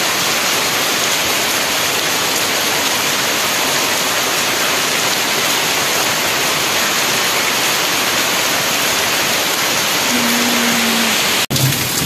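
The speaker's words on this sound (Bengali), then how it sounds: "এই যে এখনো বৃষ্টি পড়ে যাচ্ছে অনেকক্ষণ ধরে।" Heavy rain pours down steadily and loudly, a dense unbroken roar close by that lasts throughout, with a brief low hum near the end.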